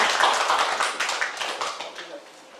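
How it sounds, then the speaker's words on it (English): A church congregation claps in applause at a Youth Sunday service, a steady, close wash of many hands that slowly fades toward the end. "Let's give Jesus a round of applause"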